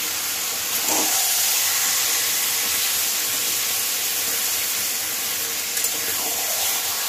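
Taro leaves dropped into a hot cooking pan for a vegetarian taro-leaf curry with chickpeas and coconut, giving a loud, steady hiss of steam and sizzling that stays up close for the whole stretch.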